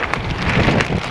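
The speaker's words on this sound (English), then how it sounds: "Oh, the wind is absolutely horrendous." Strong wind blows across the mic outdoors beside a koi pond, a dense, steady roar with low rumbling buffets for a brief moment.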